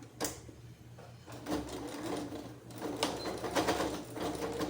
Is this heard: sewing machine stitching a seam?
yes